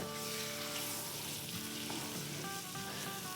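Green chili and ginger paste frying in oil over low heat for a vegetable biryani, a continuous soft sizzle with faint stirring, steady and close with no talk.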